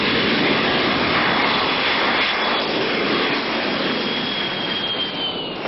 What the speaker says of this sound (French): les avions de plus en plus nombreux font trembler chaque jour et chaque nuit les fragiles maisons de ce village situé en bout de piste de l'aéroport de Saint-Domingue